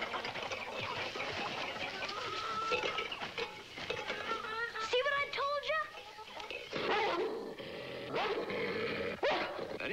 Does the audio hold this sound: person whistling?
no